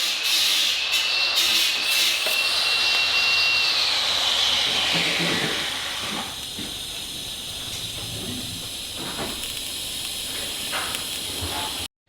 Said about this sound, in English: then I can flip it over and weld all the way around it